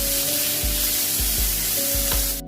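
Onions and capsicum sauté in a hot pan, a bright continuous sizzle broken by several low scraping thumps of stirring, close and loud.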